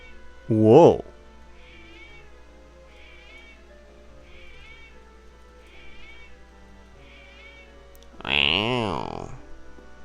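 A cat meows loudly and close by twice, several seconds apart, with quiet video game music playing in between.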